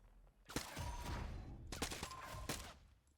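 Bursts of rapid gunfire crackle in the Warzone video game, two dense volleys of several seconds each with sharp shot transients, fairly loud and without talk.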